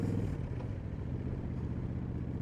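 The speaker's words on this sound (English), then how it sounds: "That and the bike exhaust kind of echoes off these buildings too" A Honda Shadow 750 motorcycle riding through the city, its exhaust rumbling low and steady and echoing off nearby buildings, loud and close with a slight swell at the start.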